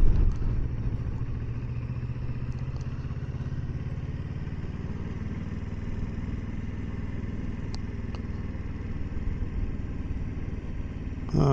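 A 2020 Kawasaki Versys 650 motorcycle is ridden around the outside of a mall, its engine giving a steady, moderately loud hum and rumble with little change in pitch.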